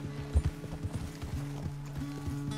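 Horse hooves trot in a steady clip-clop rhythm in the video game Red Dead Redemption 2, close and clear, over a low droning hum.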